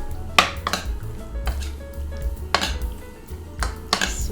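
Butter shrimp are mixed with sesame oil in a bowl, heard as several sharp clinks and scrapes of a utensil against the bowl at irregular intervals, close up with quiet gaps between.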